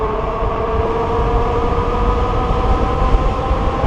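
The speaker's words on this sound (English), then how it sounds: "Into the wind if I just hit the throttle." A 72V dual-battery Magician Alpha e-bike motor runs under full throttle into a headwind, giving a loud, steady whine with layered tones over continuous wind rumble; no voices.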